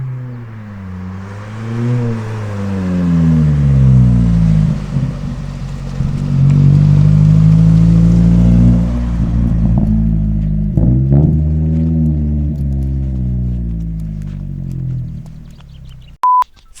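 A Mazda 323F 2.0 GT engine under way, its loud droning tone rising and falling as the car accelerates and shifts, steady and close for most of the stretch, with a brief beep near the end.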